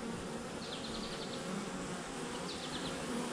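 Honey bees buzzing around an open hive in July, a dense continuous drone with individual bees whining past close to the ear now and then, steady and faint with no talking.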